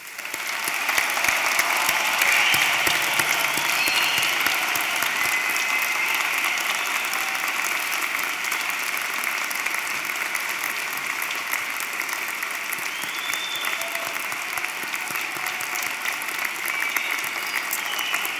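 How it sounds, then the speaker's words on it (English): A commencement audience at Des Moines University applauds the graduating class of 2015 with a dense, sustained crowd clapping that stays loud and even, with no talking. "2015 a round of applause."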